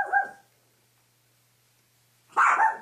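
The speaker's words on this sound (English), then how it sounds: "maybe we should calm the puppy down" A puppy barks in two short bursts, one at the very start and a louder, longer yapping burst near the end, with near silence between them.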